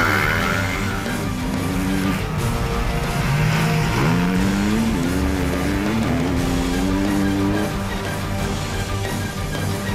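Off-road racing motorcycles, a Kawasaki among them, roar past during a Bush 2 Bush race, their engines revving and rising and falling in pitch over steady loud noise, with no voices heard.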